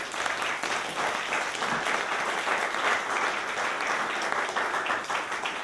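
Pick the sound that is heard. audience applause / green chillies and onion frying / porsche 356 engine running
audience applause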